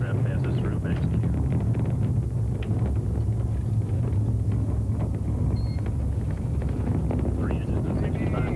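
Space Shuttle Discovery's three main engines on the STS-26 launch, heard as a steady, unbroken, distant roar that stays loud, with a broadcast voice talking over it.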